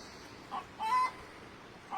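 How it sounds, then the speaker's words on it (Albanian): A rooster crows once, faint and somewhat distant, in a quiet rural Albanian countryside setting, with little else around it. "Këndo gjel, këndo."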